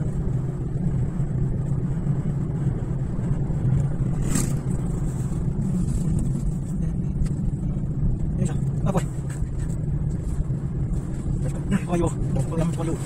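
A motorcycle engine on Japan's National Route 292 near the Shiga Kogen plateau and Yokote-yama drive-in, idling and revving in a continuous rumble, with a few sharp transient clicks and knocks late on.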